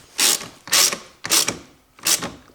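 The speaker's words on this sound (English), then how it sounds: "I take my 10mm socket and I fasten this bolt" Four separate ratcheting bursts from a 10mm socket ratchet tightening a bolt on a Toyota Prius battery, each a loud, close, clicking sweep with short pauses between strokes.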